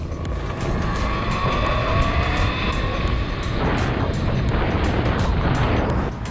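A car accelerating hard in third gear, its engine note rising steadily and loudly as it revs, close and continuous with no talk over it.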